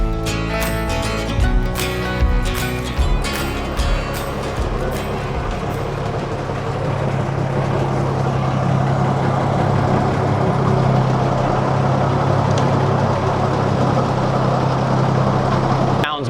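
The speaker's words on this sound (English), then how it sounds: "All right, I'm gonna go start the motor, see how wobbly it is now." An outboard-style boat motor cranks over with a few rough bursts, then catches and settles into a steady, loud, droning run close by.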